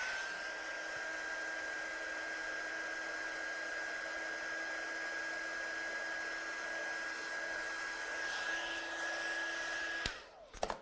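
A hair dryer blows steadily on wet watercolour paint on a handmade card, a constant close whirring hum with a high whine that runs for about ten seconds before it is switched off with a brief clatter.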